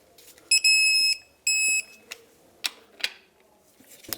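An electronic torque wrench beeps while wheel bearing bolts are tightened to 59 foot-pounds on a 2003-2009 Toyota 4Runner, two sustained high tones in quick succession followed by sharp clicks and ratchet taps.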